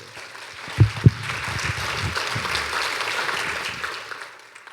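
Church congregation applause during a Spanish-language service, a few sharp claps at first swelling into a sustained, moderately loud round of clapping that fades out.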